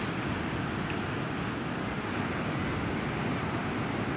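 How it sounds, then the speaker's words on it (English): Ocean surf rolls onto an open beach as a constant, dense wash of breaking waves. The roar stays steady and full, with a little wind buffeting the microphone and no voices. "waves pumping"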